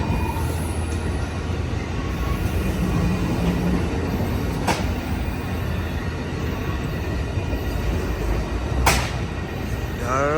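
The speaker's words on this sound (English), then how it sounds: "The train is headed to southbound of Los Angeles." Amtrak Coast Starlight passenger train #11 passing 98th Avenue in Oakland, California, heading south toward Los Angeles: a loud, sustained rumble of rail cars rolling by nearby, with wheel squeal and sharp metallic screeches.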